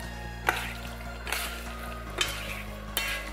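Chopped cilantro is tossed into a Thai beef salad, the utensil scraping and clacking against the bowl in four spaced strokes over a low steady background hum.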